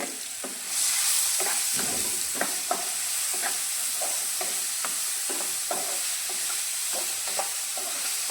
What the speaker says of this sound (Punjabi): ਲਗਾਤਾਰ ਇਹਨੂੰ ਚਲਾਉਂਦੇ ਹੋਏ ਆਪਾਂ ਭੁੰਨਾਂਗੇ